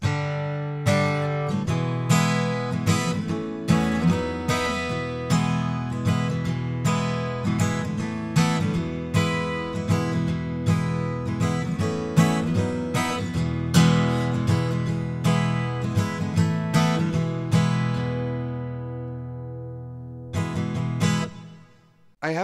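An acoustic guitar recorded with a Perth 55 microphone, strummed and picked alone in a steady rhythm with full ringing chords and added reverb, fading out near the end.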